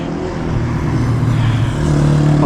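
A motorcycle engine rumbles close by, a steady loud low drone that grows slightly stronger as it passes near an Easy Rider movie location.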